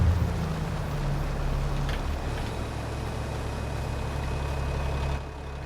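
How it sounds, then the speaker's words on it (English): A tractor engine idling in the Farming Simulator 25 video game, a steady low rumble held close and even, dropping off slightly at the end. "Oh, turn the engine off, damn it."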